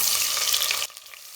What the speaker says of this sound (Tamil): இது நல்லா லேசாக செவந்து வர அளவுக்கு வதக்கி விட்டுக்கலாம்